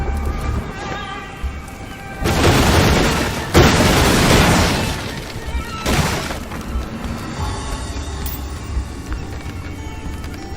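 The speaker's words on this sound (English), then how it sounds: "They can even chain react, like with the Inflame spell." In Graven, an Inflame spell sets off a destructive chain reaction: two loud, roaring blasts of crashing, shattering debris follow one another, then fade into rumbling, crackling aftermath.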